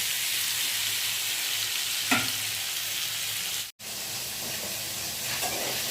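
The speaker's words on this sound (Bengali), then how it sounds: "পটলটা ভাজা হয়ে গেছে, পটলটা তুলে নেব।" Pointed gourd fries in oil in a wok, giving a steady, loud hiss of sizzling with a faint stir partway through and a brief drop-out near the end.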